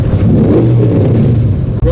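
A Cobra replica sports car, fitted with a non-Ford engine, rumbles and revs loudly and close by in a steady, throaty drone for about two seconds, with a voice faintly present.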